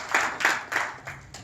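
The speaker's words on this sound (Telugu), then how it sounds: "ఒకసారి గట్టిగా క్లాప్స్ ఇవ్వండి." An audience at a business networking meeting claps in a few loose, quick bursts, roughly five soft waves of hand claps spread over a brief moment with no talking.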